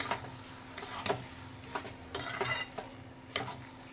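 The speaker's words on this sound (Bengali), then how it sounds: "আর কেটে রাখা ধনে পাতা দিয়ে দেব দিয়ে আবারও ভালো করে নাড়িয়ে নেব দু মিনিটের জন্য" Egg and cabbage curry with chopped coriander leaves gets stirred in a pan, a spoon scraping and clinking in irregular strokes over a soft, steady sizzle.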